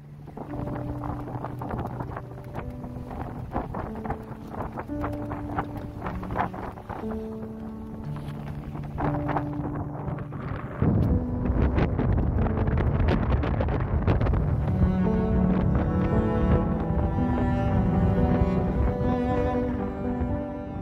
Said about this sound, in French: Dès que l'on passe la pointe sud-ouest de l'île, les conditions de vent se renforcent immédiatement.